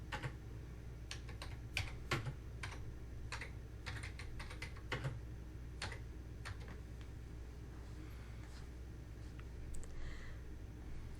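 Keys on a computer keyboard tap in quick irregular bursts as a command is typed, close and fairly quiet over a low steady hum, with pauses between groups of strokes.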